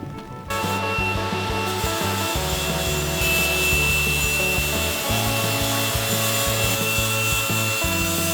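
Rough abrasive scraping and grinding work on the rusty hull of an old steel sailboat in a boatyard: loud, close, and continuous, with uneven rasping strokes and a thin metallic whine partway through.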